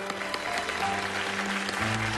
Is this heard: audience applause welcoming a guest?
yes